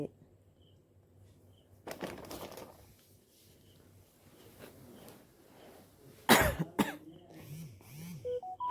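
A single sharp, loud cough bursts out after quiet rustling, followed by a few faint vocal sounds.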